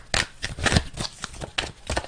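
Tarot cards being shuffled and drawn, a run of quick papery riffles and slaps in uneven bursts, close up and fairly loud, with no talking.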